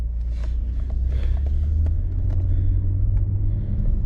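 Chevy Equinox driving on a road after a StabiliTrak and ABS repair: steady low road rumble and engine drone throughout, close and continuous, with faint knocks and no talk.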